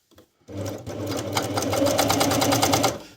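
A new domestic sewing machine starts up and stitches steadily, its needle tapping in a fast, even rhythm over a motor hum, close and fairly loud, running alone for about three seconds.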